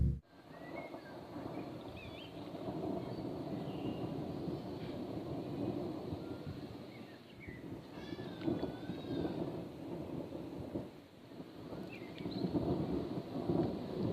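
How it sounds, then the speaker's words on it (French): Steady rain with low rolling thunder rumbling throughout, a continuous wash of noise from a long, intensely electrical thunderstorm in the Somme, France, with occasional swells, no voices. "un orage bien électrique encore une fois et assez long"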